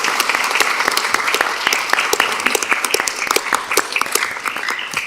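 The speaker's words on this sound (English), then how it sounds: "Can we get another round of applause?" An audience at a school board of education meeting applauds steadily, a dense and loud mass of clapping hands that continues throughout without any voices.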